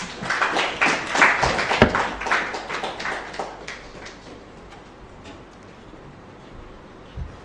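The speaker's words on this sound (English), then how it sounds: "Please, another round of applause for" Audience clapping after a presentation at a state of the agencies report, a loud burst of close claps that thins out and fades into scattered taps.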